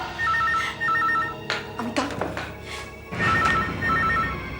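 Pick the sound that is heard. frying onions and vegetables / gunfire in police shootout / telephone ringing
telephone ringing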